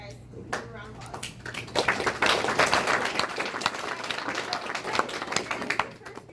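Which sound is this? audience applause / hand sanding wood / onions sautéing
audience applause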